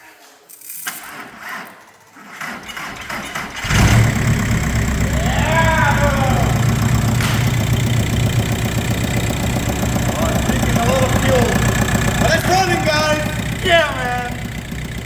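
A VW Corrado with a swapped PD diesel engine cranks after a few knocks, then catches and settles into a steady, close, clattering idle with occasional rev swells and brief talk over it.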